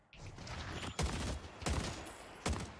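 Gunfire in the video game Deadlock comes as three sharp bursts roughly a second apart over a low background hum, fairly faint in the mix.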